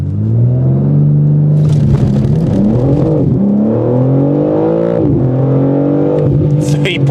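A BMW M4 CS launches hard and accelerates with a loud, close engine roar that climbs in pitch through several gear changes, with brief dips at each shift.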